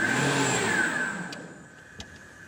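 A classic Citroën 2CV converted to an electric motor drives past with a high, whining electric tone that glides in pitch and fades as it moves away, ending with a faint click.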